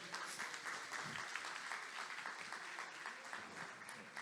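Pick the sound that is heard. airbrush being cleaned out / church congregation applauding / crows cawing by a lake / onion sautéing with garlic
church congregation applauding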